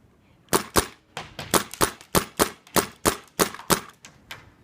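A DG/E1 paintball gun fires a rapid series of about a dozen sharp, loud pops in uneven quick bursts, close up and outdoors, with no talking over them.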